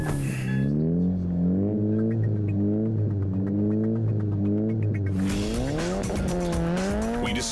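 Cars race on snow in Nizhny Novgorod, Russia, among them a Mitsubishi. Engines rise and fall in pitch under heavy revving, and loud, wavering tire squeals and skids follow as the cars slide through the corners.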